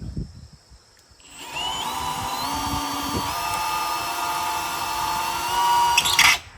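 A high-pitched power drill whines steadily for several seconds, its pitch shifting slightly as it bites through metal on a garage door, then stops.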